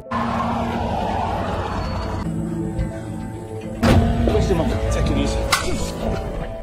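A car from a film's camping-in-the-forest story skids to a sudden stop with a sharp tire squeal midway through, amid engine noise, a close swooshing pass and scattered other sounds.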